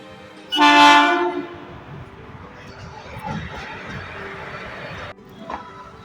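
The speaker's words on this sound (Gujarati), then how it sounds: "ફાઈનલી ટ્રેન તો આવી ગઈ છે પણ અઢાર મિનિટ મોડી" A loud train horn blares near the start, then the rumble of a train rolling in with station bustle and voices in the background.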